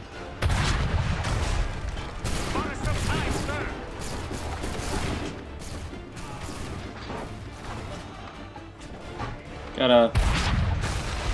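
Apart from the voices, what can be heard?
cannon fire in the video game Assassin's Creed 3 Remastered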